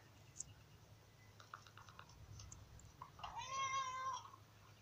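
A cat meowing in a played video, a single drawn-out, wavering meow rising near the end after faint scattered clicks and rustles, fairly quiet overall.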